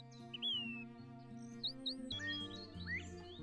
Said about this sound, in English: Western meadowlark. This pretty bird also has a beautiful flute-like song.